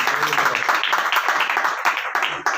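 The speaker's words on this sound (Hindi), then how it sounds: "प्रभु के लिए ताली देंगे भाई बहनों।" Church congregation clapping for the Lord during a Hindi worship service, a brisk run of many overlapping claps, fairly loud and close, continuing steadily for a couple of seconds without speech.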